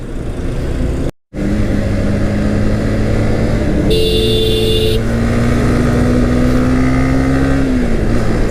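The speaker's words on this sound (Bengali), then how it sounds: "যেই পরিমাণ ট্রাফিক আজকে, যেই পরিমাণ গাড়ির চাপ।" A motorbike rides through heavy road traffic near the Meghna bridge on a Dhaka to Sajek tour, with a loud steady engine drone, wind rush, and passing horns from nearby vehicles.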